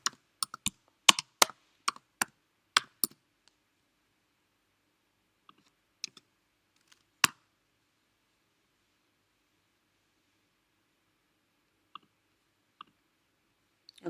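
Keys clatter on a computer keyboard while code is typed: a fast burst of clicks in the first three seconds, then scattered single taps, with no talk.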